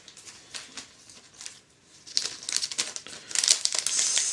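Foil trading card booster packs for the Fighters Collection 2015 Winter set crinkle and tear open, soft and sparse at first, then louder and denser rustling in rapid bursts, close up with no talking.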